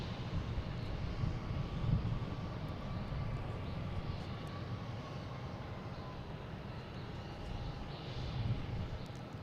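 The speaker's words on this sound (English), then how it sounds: "we have Southwest taking off here" A Southwest Boeing 737 MAX 8 takes off from Boston Logan bound for Nashville, its engine noise a low, even rumble with a faint tonal whine, heard alone from a distance.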